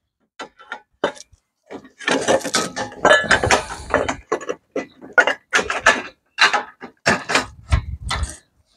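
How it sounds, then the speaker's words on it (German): Metal K2 roof mounting rail profiles clink and scrape as they slide together with a connector, in a string of short, sharp clicks and knocks close by. "jetzt die zwei Profile aneinander schieben"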